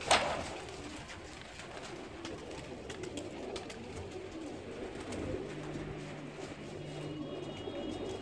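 Pigeons coo softly in the background over a steady outdoor hiss, with a brief rustle or flutter at the very start.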